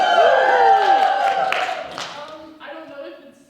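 Audience at a stand-up comedy show cheering and whooping loudly at the start, the crowd noise fading over a few seconds as scattered voices trail off.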